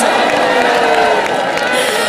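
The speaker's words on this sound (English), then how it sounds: "Can I hear another round of applause for our continental top 5 of Asia and Oceania" Audience at the Miss World 2025 grand final in Hyderabad cheering and applauding, a dense, loud, continuous crowd roar with clapping that holds steady throughout.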